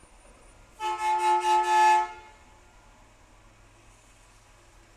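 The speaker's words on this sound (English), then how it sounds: "was a garbage truck. That's loud." A garbage truck passing outside gives a loud, tonal honking blare of about a second and a half with several pulsing swells, then fades into a quiet room.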